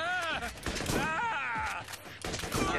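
Gunfire in the video game Borderlands, a clatter of sharp shots and rapid bursts scattered through a few seconds, mixed under overlapping voices and tonal game sounds.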